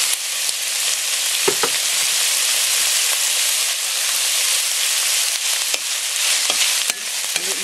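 Sausage sautés in a pan for chicken macaroni soup with a loud, steady sizzle. Occasional faint clicks of stirring break through now and then.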